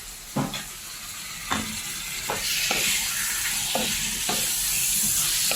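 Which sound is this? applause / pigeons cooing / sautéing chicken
sautéing chicken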